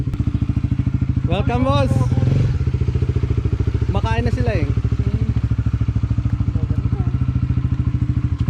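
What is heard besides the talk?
125cc Vespa motor scooter engine arriving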